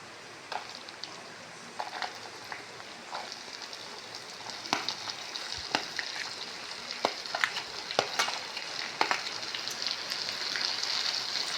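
Shallots and green chillies sautéing in a pan for a prawn dish, a soft continuous sizzle broken by frequent clicking stirs and scrapes, close and unaccompanied by talk.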